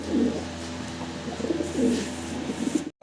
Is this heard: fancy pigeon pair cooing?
yes